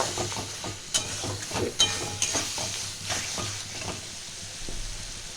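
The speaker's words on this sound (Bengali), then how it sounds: "এবার মশলাটাকে আমি ভালো করে কষাবো যাতে না আদা রসুনের গন্ধটা ছাড়ে।" Ginger-garlic spice paste with green chilies frying in a pan for khichuri, a close, even sizzle broken by several scraping stirs and soft utensil taps, no voices.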